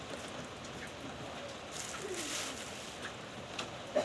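Steady rain pours down outdoors near a home kitchen, a dense even hiss throughout with a few faint bird coos and small drips over it, no talking.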